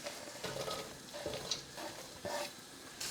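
Onions hit hot oil already holding cumin seeds and cloves for paneer do pyaza, giving a soft, steady sizzle with a few stirring scrapes and spatters, faint and close with no voice.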